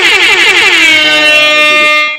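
A DJ air horn sound effect blares loudly for about two seconds, a brassy, harmonically rich blast with a wavering start that settles into a steady tone before cutting off.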